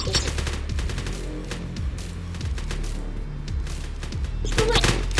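Gunfire in a video game comes as rapid bursts of shots and thuds, dense at the start and again near the end, with a steady game backdrop underneath throughout.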